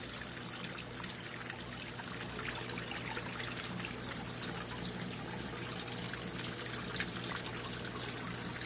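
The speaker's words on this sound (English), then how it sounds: "I changed the filter up so we've got nice flow with the water again." Water flows steadily through an aquarium waterfall tank in a fish room, a continuous trickling and babbling stream over a low pump hum, unbroken and with no voices.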